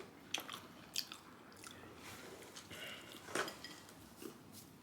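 Bites into fried chicken, a crispy piece compared to KFC original recipe, give a few sharp crunching snaps and soft chewing, close and fairly quiet with no talking.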